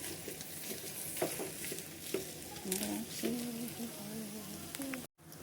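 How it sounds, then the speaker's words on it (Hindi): Spiced mashed potato filling for samosas being stirred in a pan, with a soft continuous scraping and light sizzle throughout at moderate level, and a voice talking over it. "एक बार फिर से इनको अच्छे से मिक्स करते हुए चलाएंगे।"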